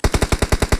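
Automatic gunfire in a video game: a rapid burst of about nine loud, evenly spaced shots, close and unbroken, with no talk.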